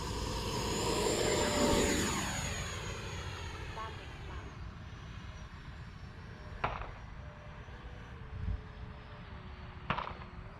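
An E-flite Viper RC jet streaks overhead, its turbine whine rising to a loud whooshing pass and then fading into a thinner, distant hum, with a couple of faint clicks later on.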